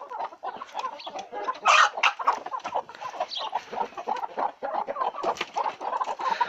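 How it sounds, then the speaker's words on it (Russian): A rooster among clucking hens nearby, a few louder calls standing out over the steady chatter of the flock. "Вон петух."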